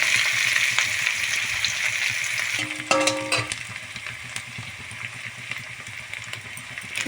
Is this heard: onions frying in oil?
yes